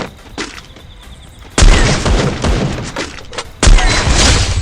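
An AWM sniper rifle fires in a video game: two heavy, booming shots about two seconds apart, each with a long rumbling tail over faint background game noise.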